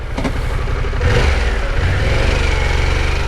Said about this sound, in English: I'm on the motorcycle.